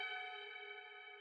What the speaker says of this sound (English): So what we have is just kind of like a simple kind of like FM sound